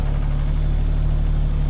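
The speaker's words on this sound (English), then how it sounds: "Here's James on the digger" A digger's engine drones loudly and steadily, a constant low rumble and hum close by with no talking.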